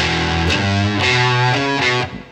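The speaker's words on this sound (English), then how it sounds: "The first one is the, I guess, the heavy guitar. And so Overdrive, there isn't echo on it or delay." Heavily overdriven electric guitar, a Boss Blues Driver pushed to full gain, with no echo or delay, strums the sustained chords of a song, changing roughly every half second before cutting off.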